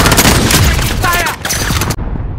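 Dense, loud bursts of automatic gunfire rattle continuously in Call of Duty: Modern Warfare, close and harsh, with voices faintly audible beneath the shooting.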